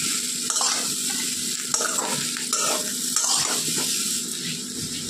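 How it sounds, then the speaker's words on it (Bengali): Fish masala sizzles steadily in a hot pan as water goes in, with a few spoon scrapes and louder hissing bursts close by; no one speaks. "এবার জল ঢেলে দেবো।"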